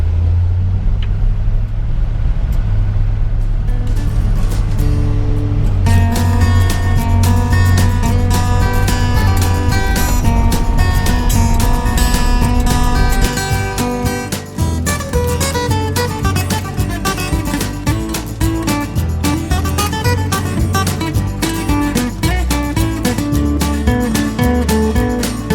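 Interior of a 1972 Chevrolet C10 pickup truck on the road, with a steady loud engine drone and road rumble throughout and engine pitch shifting as it drives, no talking over it.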